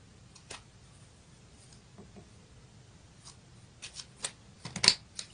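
Tarot cards being shuffled to draw a destiny card: faint, close riffles and light taps scattered through quiet, building to a cluster of sharper card snaps near the end.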